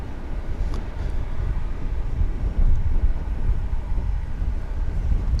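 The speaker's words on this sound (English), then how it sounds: "The wind is gusting a bit, as you may be able to hear." Gusting wind buffets an outdoor microphone at DFW International Airport, a steady low rumble with a stronger gust near the middle, alone with no talking.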